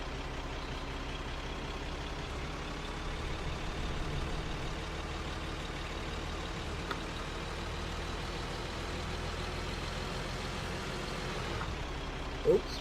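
A Ford 8630 Powershift tractor driving in Farming Simulator 2013, giving a steady, droning engine hum that holds at an even level throughout with no voices over it.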